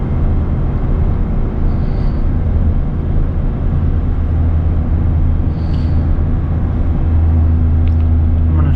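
A 24-year-old 8.1-liter gas V8 truck engine towing 18,000 pounds up a mountain grade, a steady loud low drone with constant road rumble and no talking.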